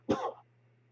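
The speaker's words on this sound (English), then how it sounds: "Damn this fucking cough" A single harsh, throaty cough from a man preaching a sermon, close and brief, followed by a low steady hum.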